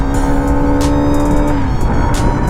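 A Hero Xtreme 125R motorcycle on a mountain road toward Ladakh gives a loud, sustained engine drone whose pitch climbs and then drops under hard throttle, with steady wind rush throughout.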